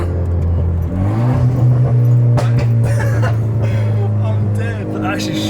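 A Renault Clio RS with a 1.6 engine on overrun through a gear change, a loud steady engine drone dipping and rising with crackly pops over it, heard from inside the car.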